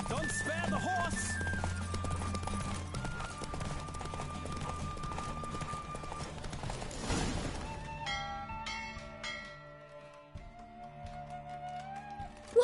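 Horse race in the video game Witcher 3, galloping hoofbeats and a neigh through the first half, then the running stops and sustained game music takes over, with voices heard intermittently.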